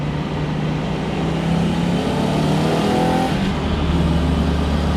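A Datsun 280Z engine runs steadily, rising slightly in pitch as it revs, with a continuous low rumble throughout.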